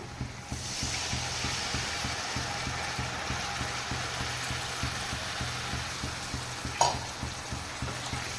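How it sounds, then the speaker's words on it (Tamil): Tamarind goes into a pan of garlic pickle and sizzles steadily and close, with a constant bubbling fry and a soft stirring clatter near the end. "இப்போ நம்ம புளி சேர்த்து விட்டுடலாம்"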